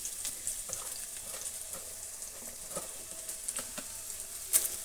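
Chopped onion, Byadagi chillies and curry leaves fry in a pan with a soft, steady crackle, fairly quiet and close, with small pops throughout and one sharper burst near the end; no one speaks.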